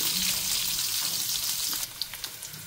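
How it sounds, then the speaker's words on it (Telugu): Onion and green chillies sizzle and crackle in hot oil in a pan, a close, steady frying hiss with a few louder pops toward the end. "ఇందులో నేను ఉల్లిపాయ అండ్ వెండిమిర్చి కొంచెం వేసేసుకొని ఫ్రై చేసుకుంటున్నాను."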